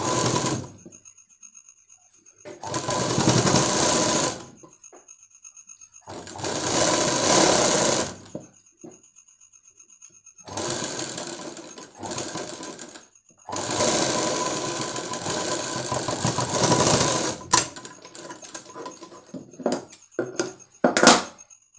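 A tailor's sewing machine stitching a blouse, running in several loud, fast bursts of rapid mechanical clatter separated by quiet pauses, ending with short stop-start runs.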